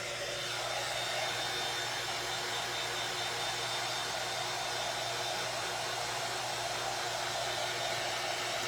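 A hair dryer blows a constant, loud, close whir while drying paint on a handmade reversible truck craft, the steady airflow unbroken from start to finish with no speech.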